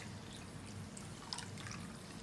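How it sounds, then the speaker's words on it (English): Water poured into concentrated pani puri flavor water in a home kitchen, a soft continuous trickle and splash with a few small drips, quiet and close, no talking. "we're just going to add some more water until we get the flavor that we like"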